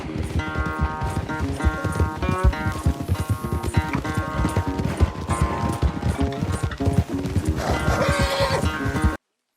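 Galloping horse in the Red Dead Redemption 2 video game, steady rapid hoofbeats racing along under a dense bed of game music, with an occasional whinny, loud and close throughout.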